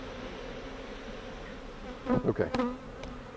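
Honeybees hum in a steady drone from a hive that has been open and worked for some time. The buzz is close and continuous, and a short word is spoken over it.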